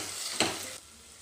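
Chicken masala and coriander powder are stirred in a frying pan for tomato rice, producing one quick, close scrape with a soft sizzle that lasts under a second.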